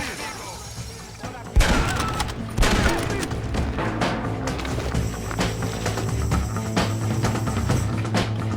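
Gunfire in the Western video game Red Dead Redemption: sharp shots at about 1.6 and 2.6 seconds, then a dense, continuous battle din with clatter and shouted voices throughout.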